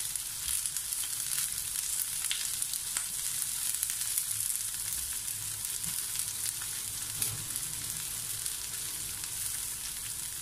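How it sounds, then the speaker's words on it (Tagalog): Onions sizzle steadily in two tablespoons of hot cooking oil while being sautéed for a bitter gourd and chicken stir fry, a continuous close frying hiss with occasional stirring scrapes and no talk. "naglagay po ako dito ng 2 tablespoons of cooking oil. And saka po natin gisahin muna ang ating sibuyas."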